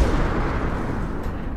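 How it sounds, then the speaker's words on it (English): Grenade explosion, a loud close, deep rumbling blast that fills the short moment and then decays slightly, with no talking over it. "Oh, grenade!"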